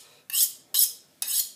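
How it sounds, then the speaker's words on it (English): Three evenly spaced scraping strokes of a kitchen knife drawn through a knife sharpener, each a bright metallic rasp about half a second apart, heard close and with no voice over them. "Knife sharpener helps a lot."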